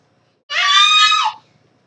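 A child screeches once, a loud, shrill, sustained scream lasting under a second, close to the microphone in an otherwise quiet room.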